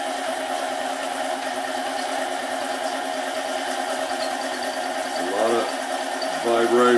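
A small Chinese mini lathe runs with its chuck spinning slightly off-center, a steady close mechanical whir with a faint regular pulse, and a voice speaks over it toward the end.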